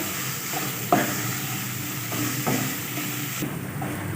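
Finely chopped onions fry gently in a pan, a soft, faint sizzle with a few light stirring scrapes and one sharper knock, heard close with no speech.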